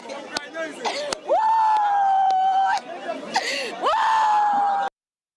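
A wailing crowd of people mourning relatives killed in a clash between military, police and youth in Ejura, with high, drawn-out cries and sobbing voices rising over one another, fairly close.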